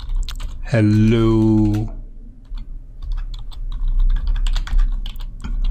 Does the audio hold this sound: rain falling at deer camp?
no